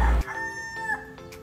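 A rooster crows in a single long drawn-out call, clear and fairly close, with no voices around it.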